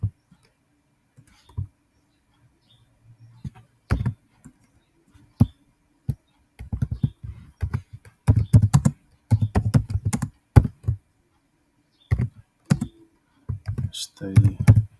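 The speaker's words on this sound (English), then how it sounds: "Let's first type stay" Typing on a computer keyboard, with sparse taps early that build into quick irregular bursts of clicky keystrokes, close and clear.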